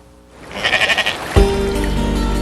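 A sheep gives a loud, wavering bleat close by, its quavering voice pulsing several times before breaking into a harsher, sustained cry.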